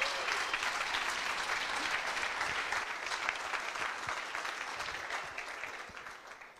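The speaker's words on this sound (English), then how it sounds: "let's have a huge round of applause for Benoit" A crowd at a coding bootcamp demo day applauds steadily at moderate volume, a sustained wash of clapping that slowly fades toward the end.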